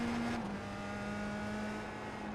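Open-wheel race car in a sim racing game at Summit Point accelerating under steady throttle, a continuous engine drone with a sustained tonal whine that shifts pitch slightly early on, loud and close throughout.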